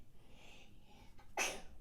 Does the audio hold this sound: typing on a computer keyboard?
no